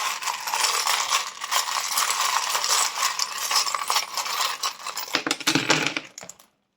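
Charms and dice shaken and cast during a card reading, a dense rattling clatter of small hard objects that runs continuously and close, ending with a few sharper knocks as they land before falling silent.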